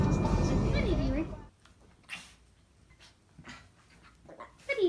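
A small dog pants and whimpers in a few short, soft bursts close by, following a stretch of talking at the start.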